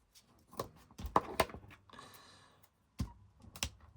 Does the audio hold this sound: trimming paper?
yes